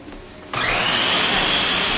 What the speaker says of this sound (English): I'm just going to blend that in a food processor